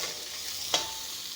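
Spice paste fries in a pan with a steady, faint sizzle and a single soft stir or scrape partway through, with no voices.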